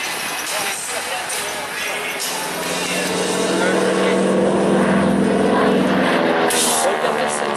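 A North American T-6 propeller trainer drones loudly at an air show in Guiscriff, its engine note swelling and growing nearer partway through, with an announcer speaking over it.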